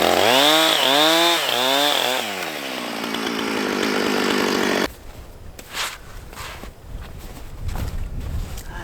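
A loud chainsaw revs in rising and falling bursts for a couple of seconds, then idles and sputters before rougher, choppier noise takes over as it cuts firewood in the woods in winter.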